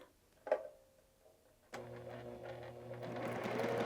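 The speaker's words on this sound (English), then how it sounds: "I'm going to bring that over to the sewing machine." A home sewing machine stitching quilt foundation piecing starts up after a brief knock, then runs as a steady close mechanical whir that speeds up slightly toward the end.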